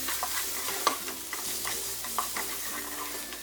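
Spatula stirring garam masala and roasted ground fenugreek frying in a pan for a Kerala egg curry, with a soft steady sizzle and repeated light scraping strokes, close and alone.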